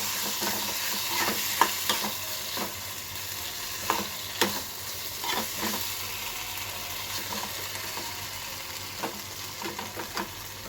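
Potato bhaji stirred and fried in a pan, a steady sizzle under repeated scraping and clinking spoon strokes at an irregular pace, close and moderately loud, with no talking.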